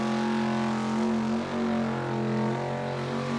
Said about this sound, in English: It's a V8 Celica.